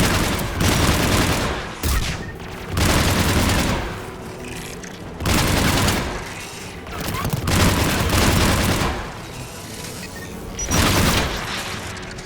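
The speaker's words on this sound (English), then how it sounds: "AA guns ahead of us." Anti-aircraft guns pounding away in Mass Effect 3, loud heavy bursts that come in repeated waves with brief lulls between them.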